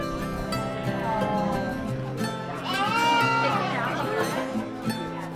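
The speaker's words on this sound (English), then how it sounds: "This is a Border Leicester, and they are considered a rare breed." Border Leicester sheep, a rare breed, bleat at a sheep and fiber festival in Lexington, Kentucky. Several wavering cries come at moderate distance over a murmur of crowd chatter and other voices.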